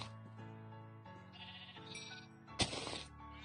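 Sheep in Minecraft bleat several times over soft game tones, with one loud close bleat standing out near the end.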